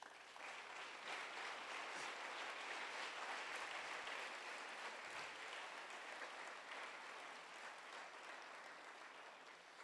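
A church congregation claps steadily throughout, a dense, even wash of applause heard from a little distance.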